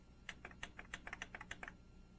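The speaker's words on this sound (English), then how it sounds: "then press the Write More button 6 times" Buttons clicked repeatedly on a Kurzweil K2600 synthesizer, about a dozen quick, light taps in an uneven run, close and fairly quiet, with no talking.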